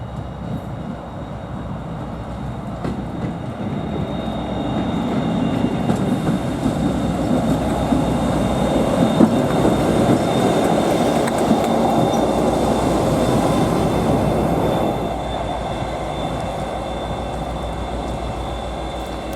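A diesel train running on rails rumbles past at close range, a loud sustained roar of engine and wheels that swells in the middle and eases toward the end, with a faint high tone above it.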